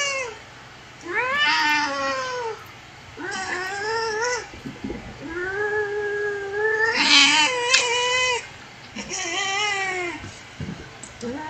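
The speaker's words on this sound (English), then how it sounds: "Do you hear the angry cat?" A cat yowls angrily in long, wavering, rising and falling caterwauls. It is loud and close, with brief pauses between cries during a Phasmophobia game session.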